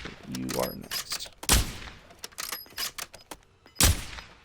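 Video game gunfire: sharp bursts and volleys of shots in quick succession, some single cracks and short automatic strings, loud and close, with a voice speaking between the shots.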